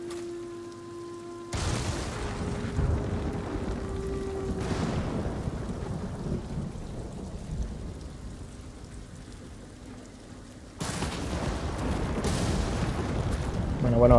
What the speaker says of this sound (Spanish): la tormenta se empeora